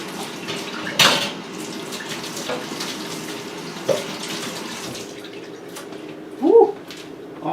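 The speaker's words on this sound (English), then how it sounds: "washing a spatula so that I can pry a cookie off there." A spatula gets rinsed under a running kitchen tap, with steady water hiss, a couple of sharp utensil clinks against the sink and a louder clatter near the end.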